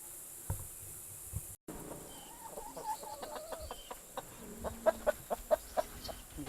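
Chickens in a backyard coop, including a black hen and a game bird, cluck in soft scattered calls that grow into a run of quick rhythmic clucks near the end, over faint background noise.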